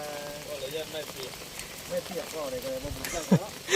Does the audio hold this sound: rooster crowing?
no